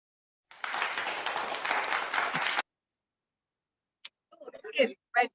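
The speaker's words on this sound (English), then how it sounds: "A big round of applause to all of them." Audience applause at a school science event, about two seconds of dense clapping that cuts off sharply, followed by a short burst of speech.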